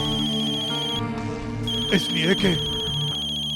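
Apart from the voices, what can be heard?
telephone ringing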